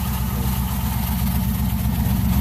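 An old car's engine idles just after starting, a loud, close, steady low rumble with a lumpy, regular pulse and no voices.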